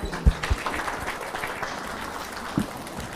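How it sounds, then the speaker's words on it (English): An audience applauds a dignitary's speech at a public address in Kenya: steady, moderately loud clapping from a crowd, with a few sharper thuds near the start and end. "Can we all stand up and give His Excellency a clap offering?"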